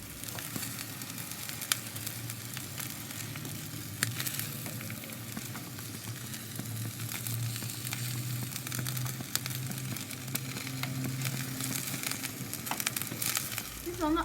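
Eggplant and potato slices sizzling and frying in a little oil in a pan, a steady crackling hiss with scattered pops throughout, fairly quiet and close.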